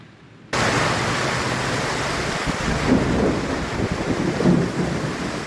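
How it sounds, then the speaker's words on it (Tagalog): Heavy rain pours steadily during a thunderstorm in Camarin North, Caloocan, with strong wind and rolling thunder rumbling through a dense, continuous roar that starts abruptly and swells in places. "Sinabayan ng kidlat at malakas na kulog ang malakas na buhos ng ulan sa Camarin North, Caloocan."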